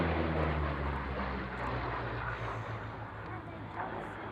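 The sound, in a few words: aircraft flying display at air show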